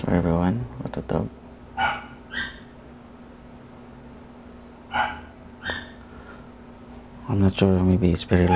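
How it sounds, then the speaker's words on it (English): Dog barking indoors during an acrylic landscape painting session, a few short barks and yips spread across the stretch, with a person talking nearby at the start and the end. "Sorry about the dog."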